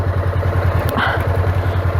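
A motorcycle at a first riding lesson for a licence sits idling nearby with a steady, pulsing low putter, loud and unbroken, and a brief clatter partway through.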